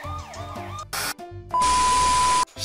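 Passing siren from a police car or ambulance, heard in short loud bursts and then a sustained wailing tone, cut abruptly, mixed with other sounds around it.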